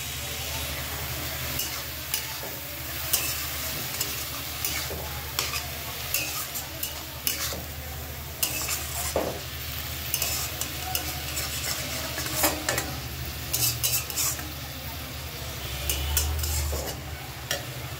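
Spinach seasoned with turmeric and salt cooks in a pan while a utensil stirs it steadily, giving soft scraping and a continuous low sizzle with frequent small clicks against the metal, close and unvoiced.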